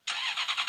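A car engine in a video game bursts to life and holds a brief, bright, buzzy revving drone that pulses slightly, with no talking over it.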